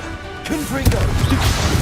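A Confringo blast spell goes off in a modded Hogwarts Legacy game, hitting with a loud bursting impact just before the one-second mark and trailing into a crackling, noisy tail.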